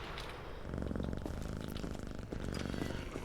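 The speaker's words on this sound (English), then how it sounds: "oh, there's my cat" A cat purrs in the video game Quarantine Zone, a close, rhythmic low rumbling that swells after a brief quieter start and continues steadily.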